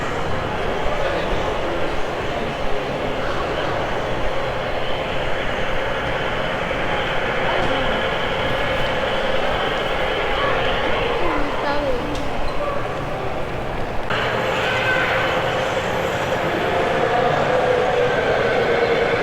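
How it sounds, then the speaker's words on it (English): A model train runs at a large model railroad museum in Gulfport, giving a steady rumbling rail noise that carries on throughout, with people chatting over it. "Oh, you see that train coming?"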